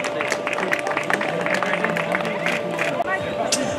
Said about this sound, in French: On peut applaudir s'il vous plaît à nouveau notre trio de tête.